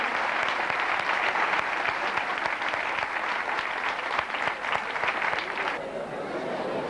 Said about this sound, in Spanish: vamos a aplaudirles